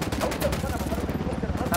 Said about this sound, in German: Öffne Feuer.